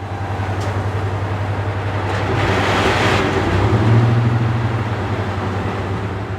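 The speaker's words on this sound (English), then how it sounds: "firing up engine number 2 as well." Loud, steady diesel drone from engine number 2 of Deltic locomotive D9015, 55015 Tullyar, at Barrow Hill Roundhouse, throbbing low and close with a slight swell midway.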